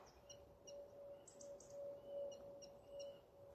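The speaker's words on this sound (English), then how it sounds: "There's a robin." A robin singing in the early morning countryside, faint and distant, with short repeated high phrases over a quiet outdoor background.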